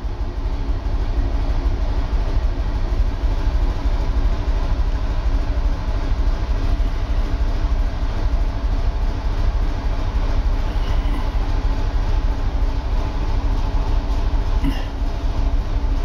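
A Panhard Dyna Junior car engine runs steadily at moderate revs inside a garage, a continuous low rumble that holds at even loudness throughout with no voices.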